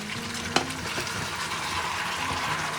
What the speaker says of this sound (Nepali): अनि यो चाहिँ एकदमै डह्रो उम्लिँदैछ